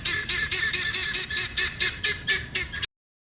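Guinea fowl calls out in a rapid series of about ten harsh, rhythmic, evenly spaced cries, loud and close, ending abruptly in silence.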